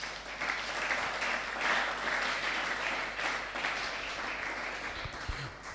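A church congregation applauding during a service, a steady wash of many hands clapping together that holds evenly for several seconds, moderately loud and slightly distant in a large room.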